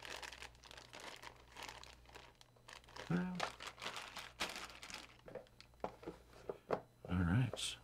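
Close crinkling and rustling of a plastic bag of board game pieces, bursts of handling noise under and between a person's speech.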